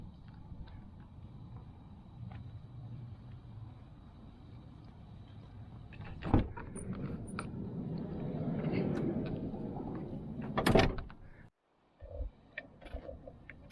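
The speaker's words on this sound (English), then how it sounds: "So let's open the cargo door here." The sliding cargo door of a Native Campervans Class B RV rolls open, with a sharp clack, a long rumbling slide and a loud thud as it latches, followed by a short pause and lighter clicks.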